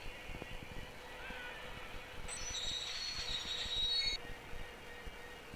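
A train rumbles along in the Train Simulator Bangladesh game, a steady rolling noise with a high squeal of wheels rising midway and then cutting off.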